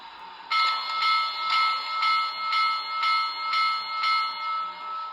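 A Big Boy 4014 steam locomotive model's recorded bell rings steadily from a Soundtraxx decoder, one clang about every half second, bright and sustained, with no talking.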